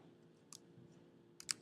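Several quick keyboard clicks while a comment is typed on a computer keyboard, faint and sparse at first, then a short cluster of sharper keystrokes near the end, with no talk.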